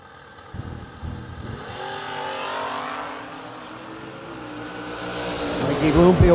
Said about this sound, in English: Mikey Bloomfield with a great big wheelie and a really small reaction time